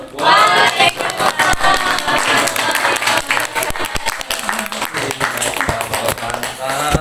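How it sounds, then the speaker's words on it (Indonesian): A live audience applauds and cheers at the close of a spoken farewell in an Indonesian event, steady loud clapping filling the whole stretch with crowd noise mixed in. "Tepuk tangan dulu dong."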